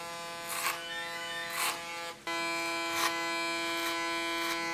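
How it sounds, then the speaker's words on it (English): Electric hair clipper cutting hair over a comb at the sides, a steady loud close buzz with strong harmonics and periodic brighter rasping surges as it bites the hair, briefly dropping and then resuming. "To the sides, clipper over comb."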